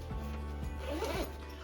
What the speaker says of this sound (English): You'll notice that when I'm zipping